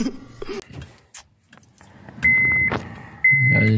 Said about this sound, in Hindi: ये तो गाड़ी स्टार्ट ही नहीं हो रही यार।